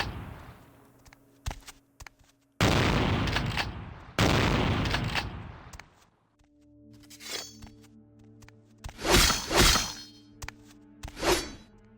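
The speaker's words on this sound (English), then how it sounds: "I'm going to lose the shotgun now, so I might as well open this up with some shots" Shotgun blasts in Vampire: The Masquerade – Bloodlines: two long, loud booming discharges with rolling decay, then a stretch of quieter clatter and a few sharper bursts near the end, with no talk.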